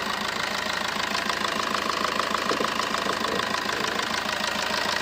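A 2017 Maruti Ertiga VDI diesel engine idles up close, steady and rhythmic with a faint knocking beat throughout.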